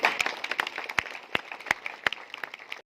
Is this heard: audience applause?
yes